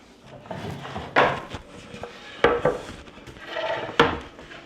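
Glass spice bottles being moved around on a kitchen counter, several sharp clinks and knocks at irregular intervals over a softer bed of shuffling and rustling, close and fairly loud.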